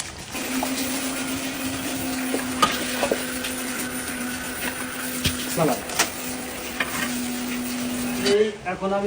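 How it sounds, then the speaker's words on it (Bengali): Chanachur and peanuts fry in oil on a hot stove, giving a steady loud sizzle with scattered scrapes and clinks of stirring, and a brief clatter near the end. "একে একে চানাচুরের পাশাপাশি বাদামও ভাজি করে নিতেছে এই উত্তপ্ত চুলায়।"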